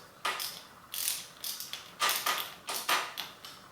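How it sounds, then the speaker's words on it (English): A wrench ratchets on a 6mm bolt of a RockShox Judy TT bicycle suspension fork, giving a series of about seven short clicking strokes in a steady rhythm, close and fairly quiet. "I'll get the wrench attached there. And so while I'm holding the part up here, I'll go ahead and just turn the bolt down here."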